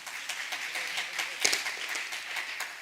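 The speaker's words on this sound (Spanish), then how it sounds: "Denles un aplauso, hombre." Audience applause at a live stand-up comedy show, a steady wash of clapping for a few seconds with a sharper burst near the middle, moderately loud and fairly close.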